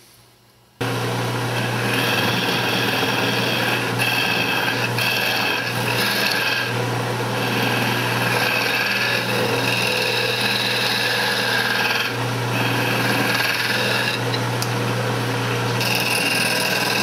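Steady, loud abrasive sanding of a redwood vase spinning on a lathe, a continuous whirring grind with a low motor hum, lasting throughout.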